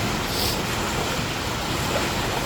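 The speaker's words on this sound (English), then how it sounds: "We have a little waterfall coming down." A small indoor waterfall pours down in a cafeteria area, giving a steady, even wash of falling water throughout, close and fairly loud, with no voices.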